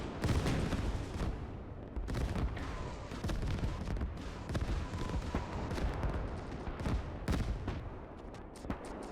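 Katyusha rocket artillery barrage in the World War II game Gates of Hell, a dense continuous roll of rocket impacts and blasts, loud and layered with sharp cracks over a rumbling bed for the whole stretch.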